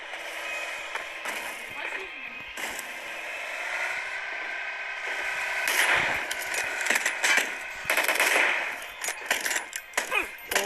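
Rapid gunfire and metallic mechanical clatter fill a video game shooter match, with sharp repeated shots and clanks over a steady game soundscape.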